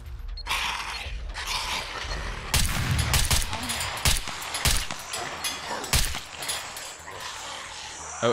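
Gunfire in the survival game SCUM, made up of a handful of sharp, loud shots in an irregular string among mechanical clanks and rattles, heard close against a rumbling background.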